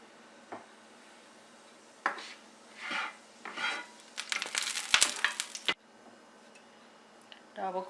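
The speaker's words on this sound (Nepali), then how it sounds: "अलिकति जिरा पड्काउँदै छु म टेस्टको लागि" Cumin seeds crackle in hot oil in a pan, coming in uneven bursts of sizzling and popping with short quiet gaps between them and a final spatter at the end.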